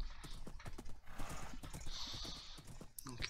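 A horse in the video game Minecraft, with rapid clip-clopping hooves and a neigh in the middle, close and fairly loud, with no talking.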